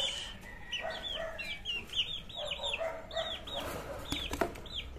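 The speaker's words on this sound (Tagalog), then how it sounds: "may bago tayong dating sisiw" A one-month-old labuyo junglefowl chick gives repeated high, chirpy peeps in quick bursts, close by, with soft clucking and faint farmyard noise behind.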